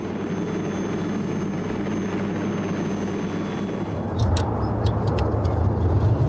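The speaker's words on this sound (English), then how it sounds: "The Pathfinder II almost succeeded in reaching its speed target in level flight." Pathfinder II experimental compound helicopter with a ringtail ducted fan, flying level at speed: a steady, loud rotor and engine drone that swells and gets harsher for the last couple of seconds, with no voices.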